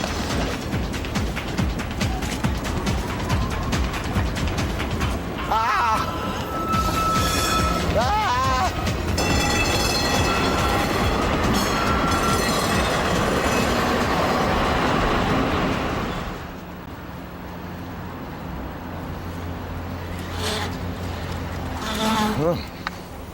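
An Amsterdam tram rolls past a canal street with a broad, continuous rumble and rattling wheel noise, a few squealing metallic tones rising over it before the sound thins out, then a faint chime near the end.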